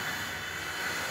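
A long-range analog FPV model airplane cruises in flight, giving a steady, even motor and wind drone with no breaks and no voices.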